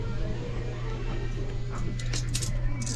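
Coins jingle and clink in short bursts toward the end over a steady low hum, fairly close, with a bit of talk around them.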